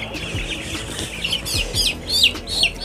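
Baby chicks on a chicken farm chirp continuously, with quick high-pitched peeps overlapping one another over a steady low background of farm noise.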